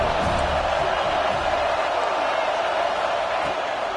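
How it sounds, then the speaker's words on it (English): A stadium crowd roars steadily at a college football game on third down, the dense wash of noise staying loud and constant throughout with no clear individual voices. "Decibels rising as the crowd gets behind this defense on 3rd down."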